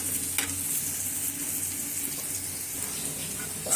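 Dried loitta fish fries in a pan with a steady bright sizzle, close and continuous throughout, with a faint low hum beneath.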